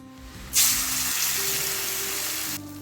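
Katla fish tail pieces hit hot oil and start frying, the sizzle bursting in loudly and holding as a steady, bright crackle for about two seconds before cutting off abruptly.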